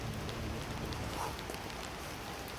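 Heavy rain pours in a steady, dense hiss across the whole stretch, alone without voices.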